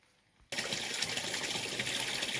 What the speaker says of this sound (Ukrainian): Тільки що закінчив поливати і набираю басейн води.